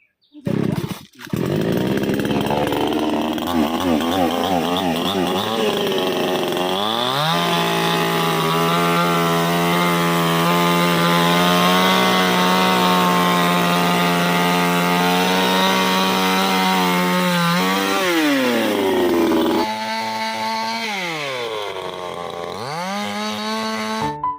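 Chainsaw cutting mango tree branches during pruning, a loud close engine whine held steady for about twenty seconds with pitch dips as the chain bites, revving down near the end.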